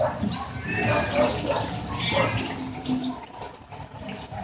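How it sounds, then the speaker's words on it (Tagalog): Water pours and splashes as it is drained from glutinous rice that had been soaking for about fifteen minutes, a steady close rushing with gurgles that tapers off toward the end. "Ngayon ko palang tinanggal yung water niya."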